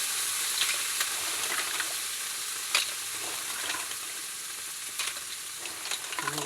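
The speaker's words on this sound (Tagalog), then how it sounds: "Tapos igisahin natin to." A kilo of mussels sautéing in a pan as the base for sinigang na tahong: a steady, close, hissing sizzle with occasional sharp clicks and scrapes as the shells are stirred.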